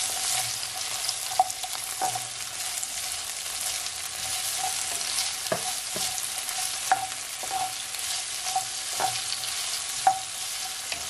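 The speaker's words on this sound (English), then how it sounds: "We're just gonna leave this carrot, guys, to stir fry for at least 15 seconds" Carrot and tomato stir-frying with cabbage in a pan for Jamaican fried cabbage: a steady close sizzle broken by repeated sharp scrapes and taps of a stirring utensil, with no talking.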